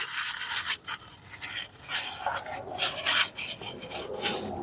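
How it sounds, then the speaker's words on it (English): A cloth wipes the area around the transmission drain bolt on the driver's side underneath a 2005 Kia Spectra EX, making short, repeated rubbing strokes close by with no talking. "And then wipe the surrounding area."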